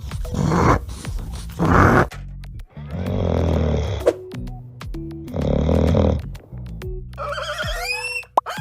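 A recording of a snoring dog plays from Google search, with slow, rhythmic snorts and wheezing breaths repeating about four times, ending in a thin squeaky whine.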